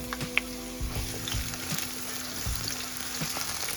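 Onions sauté in melted fat in a pan for ackee and saltfish, giving a steady close sizzle with occasional light stirring taps and a low hum beneath.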